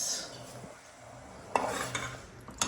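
A cooking pot of mixed vegetables being moved and handled on a home stove while the food heats, with soft scraping and a few sharp metallic clinks toward the end, fairly quiet throughout.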